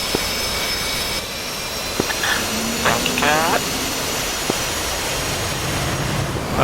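A jet aircraft engine roars steadily through a landing in the flight simulator DCS, a loud continuous whine with faint radio clicks and brief voices over it.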